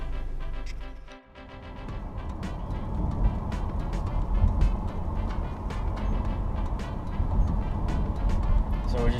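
A 2017 Honda Accord Sport Special Edition pulls away after a brief lull, its engine and road noise rising into a continuous, fairly loud rumble that holds steady as the car drives off.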